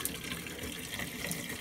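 Hot water from a tap running steadily through a cloning bucket manifold, a continuous close splashing gush with no talk.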